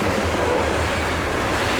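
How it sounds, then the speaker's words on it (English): Close, continuous rumble and roar of a loaded CSX coal freight train rolling past, long hopper cars grinding along the rails in a steady wash of noise with no talking. "Loaded coal train."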